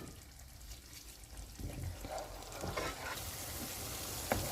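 Koftas sizzle and fry in a pan while being stirred, giving a soft, continuous crackle with scraping and small clatters rising through the middle and a brief sharp clink near the end.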